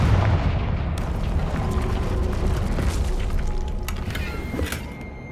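A Confringo blasting spell explodes in the Hogwarts Legacy video game, a loud booming blast with a long rolling rumble, followed by scattered crackling debris sounds as the roar gradually dies down.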